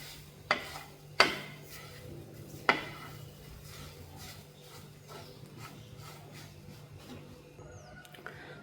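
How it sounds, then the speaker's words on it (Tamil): Green pea kachori stuffing is stirred in a pan, with three sharp utensil knocks against the metal early on, then soft scraping and faint stirring sounds, quiet and close, with no talk. "பச்சை பட்டாணி போட்டுட்டு நல்லா மிக்ஸ் பண்ணிக்கலாம்."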